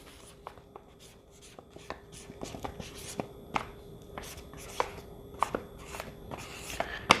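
Pen writing a label on a mylar bag of white rice: a series of short, quiet scratching strokes, close up, with small taps and rustles between them and no speech.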